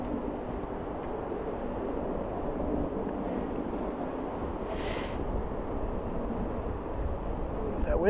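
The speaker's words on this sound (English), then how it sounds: "That wind is brisk." Brisk wind buffets the microphone at a canyon overlook at Leonard Harrison State Park in Pennsylvania, a steady broadband rush lasting throughout, with a brief higher hiss midway.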